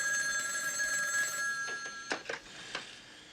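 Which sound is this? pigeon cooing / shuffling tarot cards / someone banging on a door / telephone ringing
telephone ringing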